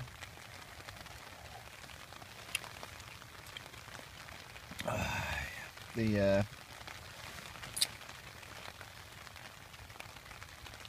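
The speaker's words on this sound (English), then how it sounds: "The rain's absolutely pelting it down." Heavy rain pelting down on a winter camp at night in calm, windless air, a steady soft hiss across the whole stretch with a couple of louder bursts of closer noise midway and a brief spoken word.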